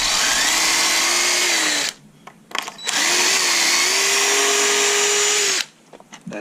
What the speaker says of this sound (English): Get my impact driver.